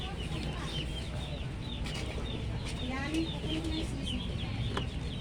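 Chickens cluck and chicks peep in a Philippine egg-buying setting, a constant close chorus of clucks and chirps over background noise, with people talking at times.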